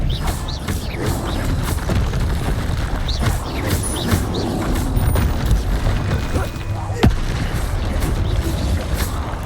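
Spells including the Confringo blasting curse fired in the Hogwarts Legacy video game: repeated booming blasts and crackling magical impacts over a rumbling, busy battle mix, with a player shouting spell names throughout.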